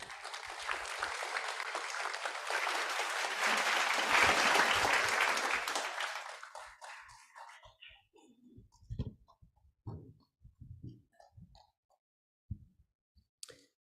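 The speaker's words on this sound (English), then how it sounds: "another big round of applause to our 21 Chairman of Asia Pacific, Dr. Robert S. Quito" An audience applauding after a speech at a memorial tribute event, dense clapping building to a peak and fading out around six seconds, followed by scattered faint knocks and rustles in a quiet hall.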